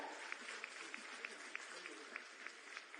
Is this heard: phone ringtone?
no